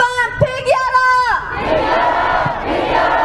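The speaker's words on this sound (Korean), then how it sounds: "구호와 함성을 외치며 마무리하겠습니다" A protest crowd gives a loud collective shout. One voice leads with a sustained chant, then a broad roar of many voices swells and lingers close by.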